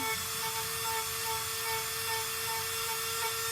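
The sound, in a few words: Dremel lightly grinding out an area of an insole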